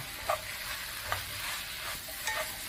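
Pork with seasoning sauce being stirred in a hot pan for spicy stir-fried pork with eggplant, a low steady sizzle broken by three soft scraping strokes, quiet and with no voices.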